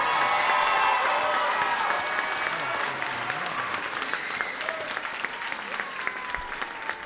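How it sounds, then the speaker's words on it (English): Crowd applause at a middle school fall band concert, dense and steady from a large audience, slowly thinning over about seven seconds with faint tonal sounds underneath. "give him another round of applause"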